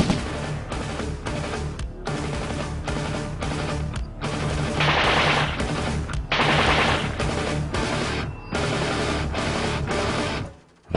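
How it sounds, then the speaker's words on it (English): Machine gun firing sustained bursts, loud and close, with short pauses between long rattling strings of shots. "Just load the magazines and fire a belt of bullets from the machine gun."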